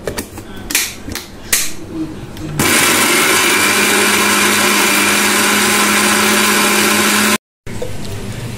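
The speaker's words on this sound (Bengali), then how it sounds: "এই যে আমি পেঁপেগুলো ব্লেন্ড করে নিয়েছি" Electric blender whirring steadily and loudly for several seconds as it blends papaya with vinegar, after some clattering handling noises, then stops briefly and restarts.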